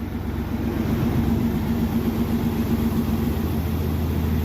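A 4.0L engine in a 1993–2001 Jeep Cherokee XJ idles steadily up close, a continuous low droning hum with an even, unbroken tone and no voices.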